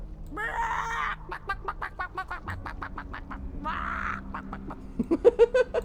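Repeated short clucking calls from a World of Warcraft chicken emote, in quick rhythmic bursts with a couple of louder squawks, close and clear.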